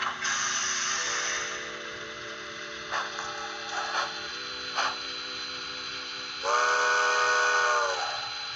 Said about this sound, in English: to put it back into chuffing mode, put it to F6